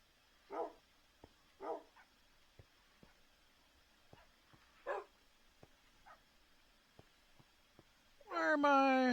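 Short, clipped dog barks in the Minecraft video game, a handful of isolated yips scattered over quiet ambience, ending as a voice begins speaking.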